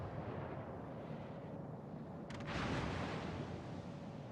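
Naval gunfire from the British light cruiser Neptune in World of Warships booms amid a rumbling battle backdrop, one heavier blast standing out near the middle, moderately loud.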